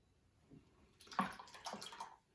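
A watercolor brush is swished in water to rinse it, producing a soft, close sloshing and splashing that lasts about a second.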